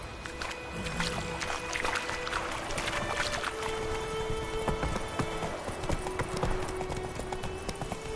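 Horse hooves clip-clop at a steady galloping rhythm throughout in The Witcher 3: Wild Hunt, close and continuous over a busy background of ambient game sound.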